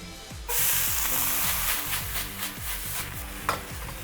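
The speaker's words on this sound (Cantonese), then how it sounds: "炒咗呢一個椒咧，大概1分鐘到啦" Chili peppers sizzle loudly in hot oil in a wok, a bright continuous crackle with repeated scraping stirs of the spatula, close up and without talk.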